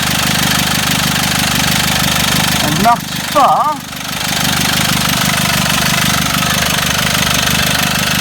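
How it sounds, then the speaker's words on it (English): A Land Rover Discovery 200TDi diesel engine idles steadily and close at operating temperature, a constant rumbling drone that continues throughout while someone briefly speaks partway through. "I've just been on a little drive just round the block and along the bypass, so just get the engine up to temperature"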